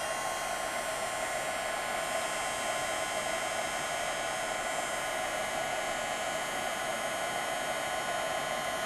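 A heat tool blows hot air to melt gold embossing powder on a card, giving a steady, loud whooshing drone that holds unchanged from start to finish with no talking.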